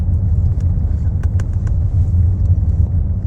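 Cars passing on a snowy road in New Zealand, a constant loud low rumble of traffic with a few faint clicks, heard from nearby.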